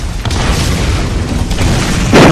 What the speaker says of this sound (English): Do you see these rockets coming out of thin air?